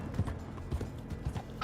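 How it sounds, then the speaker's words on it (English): Horse hooves clip-clopping in the video game Red Dead Redemption 2, a moderate, irregular run of hoof thuds close by, faint background ambience and no talk. "Run over here to our horse."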